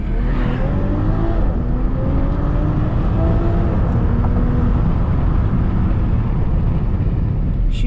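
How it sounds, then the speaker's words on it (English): BMW X7 SUV accelerating on an Indian road, its engine and exhaust rising in a steady rumbling drone with heavy wind noise from open windows, loud and continuous throughout. "And the exhaust note on this thing, damn, that's too good."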